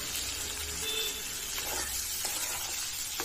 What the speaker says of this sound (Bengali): আর এখন কিছুটা পেঁয়াজ দিয়ে দেবো। এই তো আমার ফোড়নে হচ্ছে সামান্য, একটু ভাজা ভাজা করে নিই